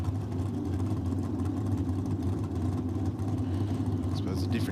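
A 400 cubic inch Chevy drag car doing a burnout at a championship drag racing meet: a dense, steady engine rumble throughout, loud and unbroken, with a voice over it.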